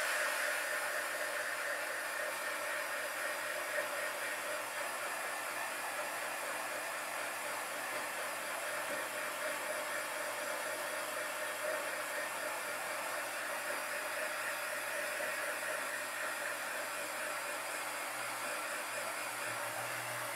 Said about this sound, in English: Let me hit it with the dryer.